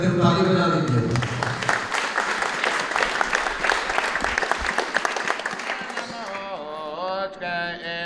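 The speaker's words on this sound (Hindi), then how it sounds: "स्वागत करते हुए ताली बजा दीजिए।" A church congregation in India claps to welcome newborn twins, a full burst of applause for several seconds that fades as singing and voices take over toward the end.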